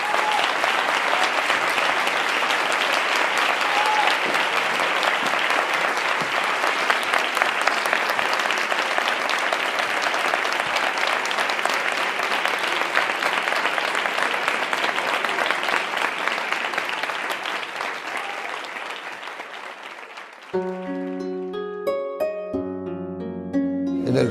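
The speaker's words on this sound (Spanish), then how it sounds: "yo os pido un enorme aplauso" Sustained, dense applause from an audience at a university columnism congress carries on for about twenty seconds, then fades as a short burst of music begins.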